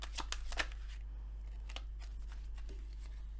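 Playing cards shuffled during a French card reading, a few quick crisp riffles up front followed by softer scattered flicks and slides of cards, close and fairly quiet.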